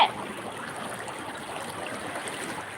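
Floodwater flows past a house front in a steady, soft, continuous rush and trickle, moderately close, with no voices.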